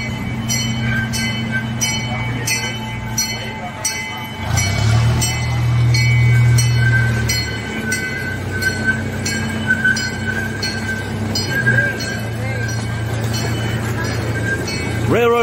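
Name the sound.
train passing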